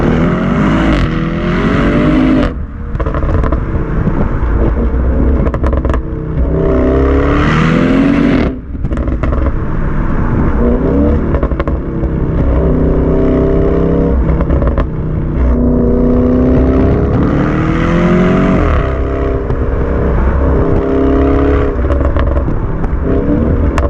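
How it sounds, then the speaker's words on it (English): An Audi RS6 Performance fitted with an Audi Sport Akrapovic exhaust, loud and close, with repeated revving surges and harmonic engine sweeps rising and falling, brief dips between pulls and a sharp cut near the middle. "This car, the pops and bangs on the overrun from factory were wonderful, but we upgraded to the Audi Sport Akrapovic exhaust."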